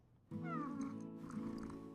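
A domestic cat lets out a close, drawn-out meow with a rising then falling pitch, starting suddenly after a brief quiet and tailing off gradually.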